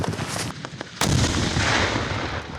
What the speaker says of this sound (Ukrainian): Справжній вибух імітує роботу артилерії.